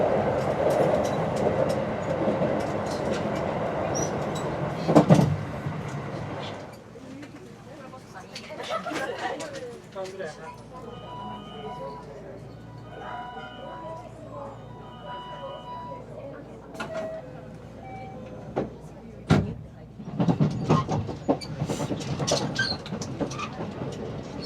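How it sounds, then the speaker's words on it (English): A local train in Japan running on a line through the Kyoto, Osaka and Kobe area, with a steady interior rumble, occasional clicks and bumps of the carriage, and soft passenger chatter in the background. "this train passes through big cities like Kyoto, Osaka, and Kobe"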